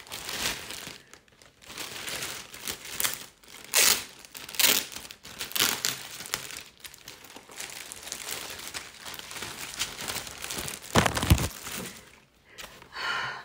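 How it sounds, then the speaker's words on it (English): Fjällräven Kånken Re-wool sling bag being unwrapped from its packaging, with irregular bursts of crinkling and tearing plastic rising and falling over several seconds, close and fairly loud. "Now let's unwrap it."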